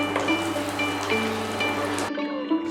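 Whole garam masala, two dried red chillies, a bay leaf and asafoetida crackle and sizzle in hot mustard oil, a dense steady frying hiss that cuts off abruptly near the end.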